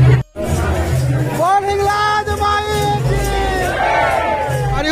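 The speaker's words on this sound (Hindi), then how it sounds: "ए दादा रे भीड़" Dense, loud crowd noise at a village Jawara immersion procession, with continuous shouting, cheering and babble of many voices, low drum or music thumps beneath, and a brief dip near the start.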